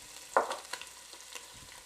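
Onions drop into a hot pot for spicy andouille and shrimp jambalaya, with a brief sizzling burst followed by faint, quiet frying crackle and a few soft stirring knocks.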